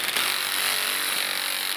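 A new handheld power tool runs at high speed while pressure is applied, a loud, bright continuous whine with a gritty rubbing edge, close up and steady throughout.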